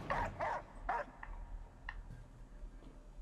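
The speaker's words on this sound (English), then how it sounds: "There's a dog in here." A dog barks a few times inside the Layers of Fear 2 horror video game, sharp close yelps in the first second, then fainter scattered yips and whimpers over low background rumble.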